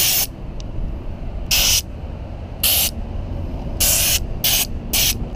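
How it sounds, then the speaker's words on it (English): Compressed air from a free tire air pump at a US gas station bursts out in five short, loud hissing blasts, each lasting a fraction of a second to about half a second, over a steady background rumble. "US gas stations, you have free air pump for the tire."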